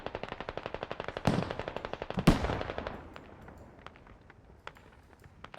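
Hell cannon firing in Squad, a rapid run of sharp repeated blasts, then two heavier booms and a decaying rumble with scattered distant shots, no talk.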